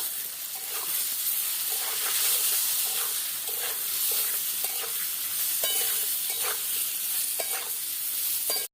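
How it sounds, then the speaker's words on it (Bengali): Boiled potatoes fry with onions in a pan in a village kitchen, making a loud, steady sizzle with repeated scraping strokes as the mixture is stirred. "সিদ্ধ করা আলু দিয়ে দেব। পেঁয়াজের সঙ্গে ভেজে নেব।"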